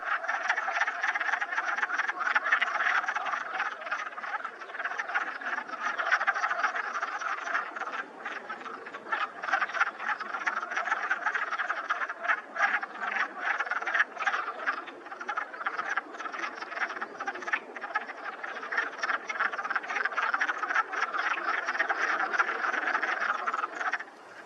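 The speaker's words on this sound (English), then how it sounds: "the frogs proceeded with their croaking and swimming about" A chorus of wood frogs croaks continuously from a spring creek-valley pond, many overlapping clucking calls forming a dense, steady rattle at moderate distance with no voices.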